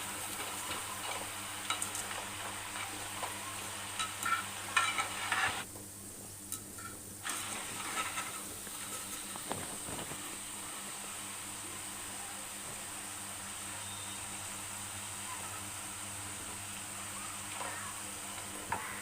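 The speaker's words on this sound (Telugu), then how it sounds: "క్రిస్పీగా అయ్యేంత వరకు వేయించుకొని ప్లేట్లోకి తీసుకోవాలి." Onion pakoda frying in hot oil until crispy, a faint steady sizzle with soft bubbling and occasional light clinks from stirring, close and continuous with no talk.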